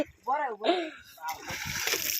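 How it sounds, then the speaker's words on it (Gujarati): Water splashes and sloshes at a water park, a broad rushing spray building in the second half, following a voice talking up close. "આ થોડું પાણી ઉડાડો ને"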